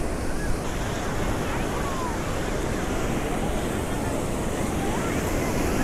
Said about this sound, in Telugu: బీచ్లో కూర్చొని హ్యాపీగా అలలు ఇంకా గాలిని ఆస్వాదిస్తూ